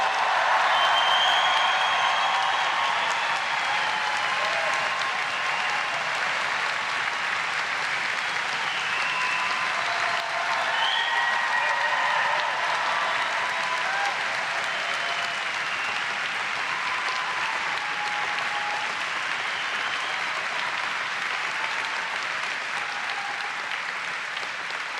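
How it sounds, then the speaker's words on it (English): A large audience at a Dundee University summer graduation ceremony cheers and applauds, a dense, steady roar of clapping with cheering mixed in that holds loud and even throughout. "An even bigger Dundee cheer just before we finish."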